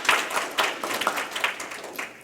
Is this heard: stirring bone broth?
no